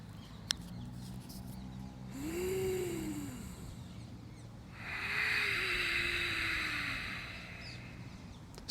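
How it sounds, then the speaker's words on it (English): Two slow, audible ujjayi yoga breaths, the throat-constricted Darth Vader style breathing, each a soft, drawn-out rushing exhale with a faint tonal edge, heard up close against a quiet background. "Ujjayi breathing or Darth Vader breathing"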